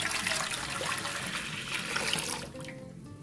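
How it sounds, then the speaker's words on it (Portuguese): Tap water gushes into a cooking pan, 700 ml in all, a close splashing pour that stays steady for over two seconds and then tapers off into a quieter trickle. "Em uma panela, coloque 700 ml de água."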